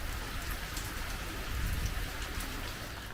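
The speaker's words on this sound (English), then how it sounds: "the rain has arrived" Steady rain pours down over a lake's northern end on a dull weekend, a dense, even hiss of drops on surfaces swelling slightly midway, with no voices.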